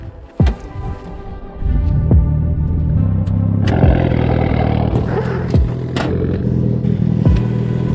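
A Mitsubishi Evo with a dead battery labours to crank over on a cold day, producing a loud, sluggish starter whine and uneven throbbing hum that sags and surges for several seconds.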